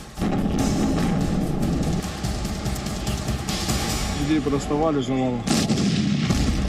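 Heavy artillery fire and bombing in Mykolaiv, Ukraine, roars as a continuous loud rumble with booming bursts. A brief warbling tone rises midway and a sharp blast comes near the end.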